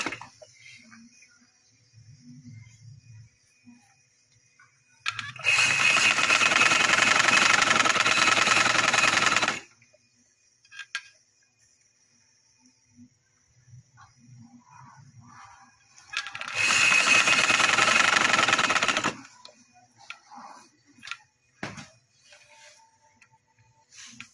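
A sewing machine stitches the neckline of an umbrella frock in two loud, steady runs of several seconds each, with quiet gaps between them.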